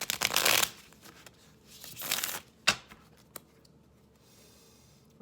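Tarot cards shuffled by hand in two quick riffling bursts, followed by a couple of sharp card snaps and taps, close and crisp with no talking.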